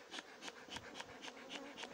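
Bees buzz at an apiary in a dense, close hum with regular pulsing swells, steady and alone without voices.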